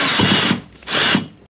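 A power tool drives bolts to fasten a mount on a Honda Honwave fishing boat, two loud close whirring bursts with a short pause between them, with no talking.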